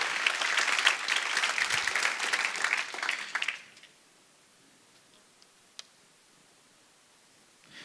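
Church congregation applauding during a sermon, loud dense clapping for about three and a half seconds that stops abruptly, followed by near silence with a few faint ticks.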